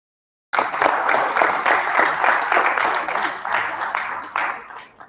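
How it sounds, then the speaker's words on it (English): Audience applause at an electability conference, a dense, steady burst of many hands clapping that starts abruptly and holds loud and even for several seconds before thinning slightly at the end. "If you're clapping for me,"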